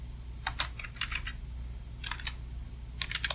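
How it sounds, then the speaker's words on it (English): Keystrokes on a computer keyboard entering a Linux terminal command, falling in three short bursts of quick clicks separated by pauses, close and fairly quiet, with no voice. "Simply type sudo"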